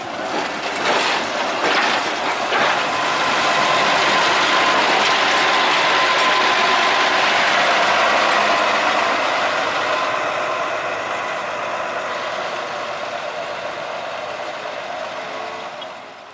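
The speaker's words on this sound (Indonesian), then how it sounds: "lokomotif melanjutkan perjalanan dengan jalur yang melipir jalan raya" Sugarcane railway locomotive on a mill line running beside a highway, its engine giving a steady mechanical clatter and ratcheting rumble that stays loud and close for most of the stretch, then eases off slightly toward the end, with no voices.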